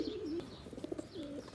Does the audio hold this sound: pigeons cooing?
yes